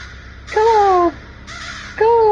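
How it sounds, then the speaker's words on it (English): Two loud, close crow caws from The Stanley Parable video game, each a harsh descending call about half a second long, separated by a short pause. "we found the crows"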